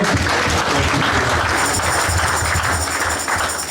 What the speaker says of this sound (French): On peut acclamer pour le frère Jean-Pierre